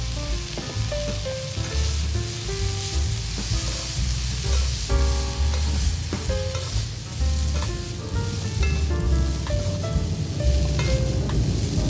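Rice noodles, soaked in water for half an hour, hit a hot pan for camping-style shrimp pad thai, giving a loud, continuous sizzle with scraping and tossing sounds as they are stirred close up.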